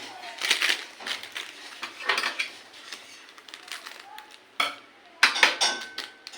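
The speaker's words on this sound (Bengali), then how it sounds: "এবার একটা দুই প্যাকেট মশলা মিশিয়ে দিচ্ছি বন্ধুরা" Spice packets being mixed into Samyang Buldak spicy Korean ramen noodles, with repeated close scraping and clinking of a utensil against a bowl in short irregular bursts, a brief pause, then a louder flurry of stirring.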